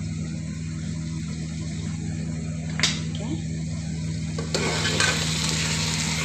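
Minced meat with green chillies fries in released oil after slow cooking, a steady close sizzle with a sharp clank of a utensil and louder stirring toward the end.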